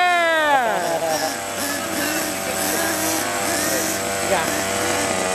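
A 1/5 scale Kingkong RC monster truck on its maiden break-in run at a field, engine revving up and down in a loud, close whine with bursts of throttle, people talking over it.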